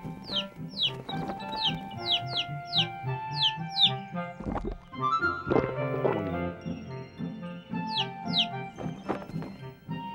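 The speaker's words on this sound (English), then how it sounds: "There were birds," Cartoon birds cluck and chirp in a playful animated scene, with quick chirps in bursts over bouncy music and clucking sounds in the middle, heard close and fairly loud.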